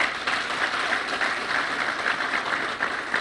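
A crowd at an electric motorcycle launch applauds steadily for a few seconds, a dense wash of many hands clapping at moderate distance, without talk.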